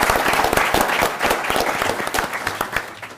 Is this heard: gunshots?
no